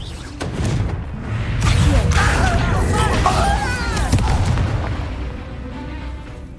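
A Confringo fire spell bursts with a low booming blast in the Hogwarts Legacy video game, a sustained rumbling explosion with crackling debris and whooshing effects, while a voice speaks over the action.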